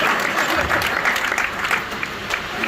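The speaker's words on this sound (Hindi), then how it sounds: "जो समझ जाए एक बार तालियां बजा के बता दो मुझे" An audience at a Hindu poetry gathering in Ghaziabad breaks into clapping on cue, a burst of many hands that swells and then loosens over a couple of seconds.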